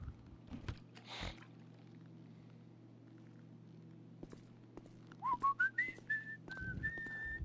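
A character whistling in the GTA 5 video game, a short run of notes rising and then held steady near the end, following quiet ambient noise and a few soft thuds.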